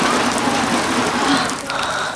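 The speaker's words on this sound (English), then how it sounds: "she felt raindrops hit her face." Steady rain falls continuously at sea on an open ocean, a dense even hiss of raindrops with no talk over it.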